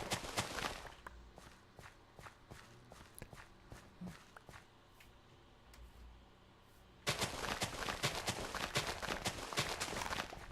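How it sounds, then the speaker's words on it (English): Blocky footsteps from the Minecraft video game plod in a steady, almost rhythmic series of soft thuds while the character walks backwards, turning louder and denser near the end. "If you listen to the footsteps walking backwards, it actually sounds almost rhythmic."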